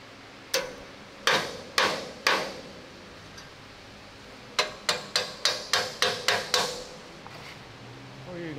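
Hammer tapping a clamped metal part of a WWII Grant tank 37mm ammo rack, three spaced ringing strikes followed by a quick run of about seven taps, close and sharp with faint shop background.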